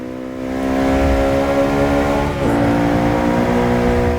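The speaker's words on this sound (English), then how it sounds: "It's cool if you like a turbocharger sound in the car and everything." A McLaren 650S or Lamborghini Huracan engine in Forza Motorsport 6 drones steadily at high revs, turbocharged, its pitch dipping briefly before climbing back to a sustained roar.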